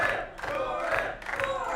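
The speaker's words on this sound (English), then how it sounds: "Hear the fans cheering for Jordan Blade." Wrestling fans in an arena crowd cheering and shouting in a dense, rising and falling roar, two swells of voices filling the whole moment.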